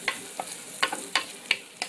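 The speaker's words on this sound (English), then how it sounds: "I melted up like about a half a stick of butter. And in that is where I'm sauteing my onions." Onions sauteing in about half a stick of melted butter, heard as soft steady sizzle with several brief clinks and scrapes of a spoon stirring the pan, fairly quiet, no talking.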